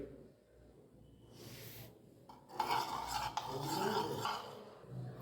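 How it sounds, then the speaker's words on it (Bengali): A spoon stirring icing sugar into water in a bowl, rasping and scraping steadily against the sides, louder in the second half with a few sharper clinks. "এটা ভালো করে জলের মধ্যে মিক্স করে নেব"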